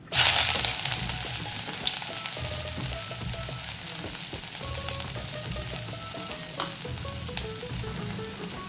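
Ginger, black pepper and curry leaves sizzle and fry in oil as the tempering for Pollachi-style hotel ven pongal. A close, steady crackle carries a few sharper pops and stirring clicks, with no talk.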